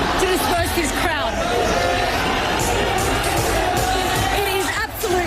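Chaotic protest crowd scattering as police disperse it with pepper spray, a dense roar of shouting, whooping and babbling voices filling the space loudly and continuously.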